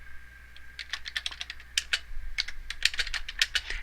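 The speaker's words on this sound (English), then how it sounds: "let me go ahead and pause for a minute and finish doing a little typing" Quick bursts of computer keyboard typing, irregular clicking keystrokes close by, with short pauses between clusters.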